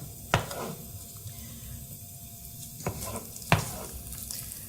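Potatoes and onions fry with a steady sizzle in a pan, broken by three sharp clanks of a utensil stirring against the pan.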